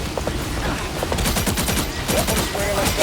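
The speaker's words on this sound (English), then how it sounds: "Nobody can hang with the pulse cannon." Rapid bursts of pulse cannon fire in the video game Marvel Rivals, a dense rattling barrage of repeated shots layered with game effects and chimes.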